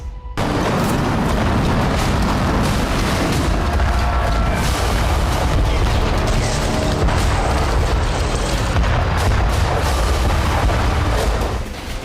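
Loud, sustained rumbling booms and blasts fill news footage from the Israel–Yemen war, continuous and heavy from start to end, with no speech over them.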